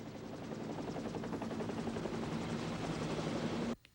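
A helicopter airlifting a horse over a canyon, its rotor chop pulsing loud and steady throughout, then cutting off abruptly near the end.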